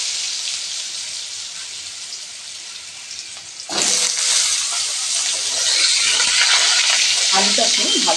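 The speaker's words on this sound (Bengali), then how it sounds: "আলুটাকে ভালো করে ভেজে নেব" Potato pieces fry with prawns in a pan, giving a steady hiss that jumps louder halfway through as the pieces are stirred, with light clinks and crackles.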